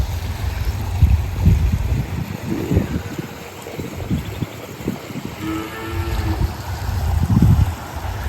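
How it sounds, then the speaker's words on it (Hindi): Water trickling and flowing along the edge of a mostly dry stream bed beside a Gir cow shed, a steady rushing wash with low gurgling surges close by. "सिर्फ साइड से बह रहा पानी।"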